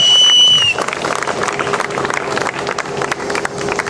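Rally audience in Rajahmundry breaking into loud, sustained applause, dense clapping from a large crowd nearby after a brief whistle at the start, with crowd noise mixed in.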